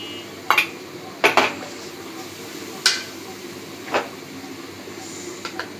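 Metal spoon clanking against a cooking pot as ginger garlic paste is stirred in among whole spices, several sharp scattered clinks over a low background hiss.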